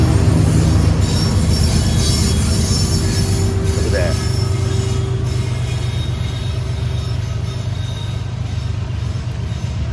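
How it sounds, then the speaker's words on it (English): A loud freight train rumbles past up close through Thurmond, West Virginia, its wagons clattering steadily with a faint wheel squeal, and a voice speaks briefly over it. "Here comes the train."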